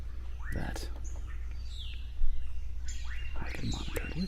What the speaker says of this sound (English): Forest birds chirping away.